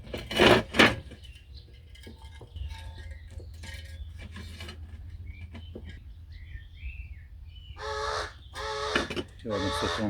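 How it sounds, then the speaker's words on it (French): Pet crows give loud, harsh caws nearby, in clustered bursts at the start and end, while someone talks steadily underneath with occasional soft knocks. "Habituellement, mes corbeaux ne font pas autant de bruit, mais là, comme ils m'entendent parler, ils doivent se demander avec qui je parle."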